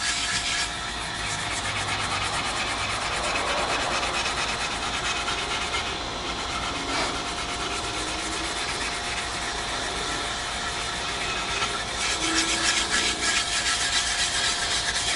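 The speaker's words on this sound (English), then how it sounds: "So we're going to get a little bit of steel wool." Steel wool rubbed back and forth over a Tru-Oil finish on a claro walnut guitar body to smooth out a drip, a continuous close, hissing scrubbing sound with no speech.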